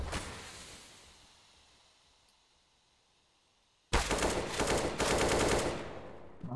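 Counter-Strike gunfire on de_dust2 during a competitive match: a quiet, fading stretch gives way to a sudden loud burst of rapid automatic shots that keeps going for several seconds.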